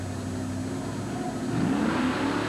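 A 1988 monster truck engine revs during a Ford versus Chevy sled pull at a New Orleans arena. A steady distant engine roar climbs in pitch partway through, heard under crowd and arena ambience.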